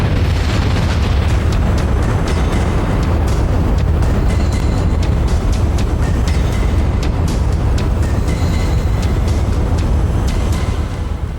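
A massive asteroid impact explosion in a documentary sound effect: a loud, sustained roaring rumble with heavy low-end boom and crackling debris that fills the whole stretch without pause.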